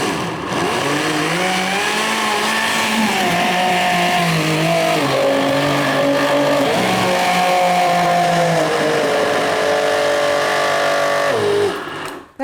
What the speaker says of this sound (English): this is what a high-powered blender is capable of doing